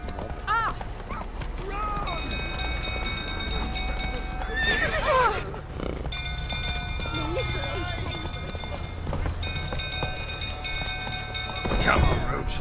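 Horse in The Witcher 3 video game neighing repeatedly with galloping hoofbeats, set amid a burning castle, with shouted voices and game effects around it.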